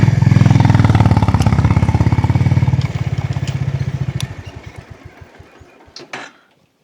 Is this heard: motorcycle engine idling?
yes